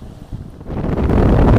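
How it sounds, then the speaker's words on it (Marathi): Cool wind off the sea at Ganpatipule beach in Ratnagiri buffets the microphone, starting softer and swelling into a loud, steady roar with rumbling gusts and no talking. "गार वारा."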